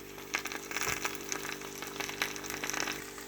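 Cheesy potato and egg frying in a covered pan, a soft steady sizzle with faint crackles and occasional pops, fairly quiet and close, with no voices.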